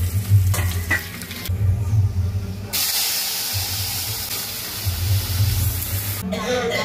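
Cumin, mustard seeds, garlic and red chilli sizzling in hot oil for a dal tempering, a loud continuous frying hiss that surges midway, with a voice talking over it at times.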